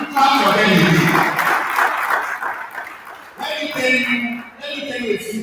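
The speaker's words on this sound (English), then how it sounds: "clap for them again" A seminar audience on modern livestock farming claps for farm managers, steady applause at close range with a speaker's voice running over it and a brief dip midway before the clapping resumes.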